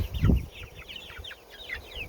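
Young chickens, mostly roosters, peep and chirp in a busy cluster, with a soft low thump near the start; close and moderately loud.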